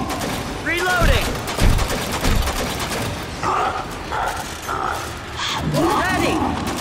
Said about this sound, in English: Reloading!